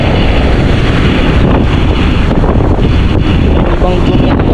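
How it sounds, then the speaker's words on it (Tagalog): Strong sea waves surge onto the shore under heavy wind buffeting the microphone, a loud continuous roar of surf and gusts with no clear breaks, during apparent low-pressure weather. "Napakalakas ng alon no."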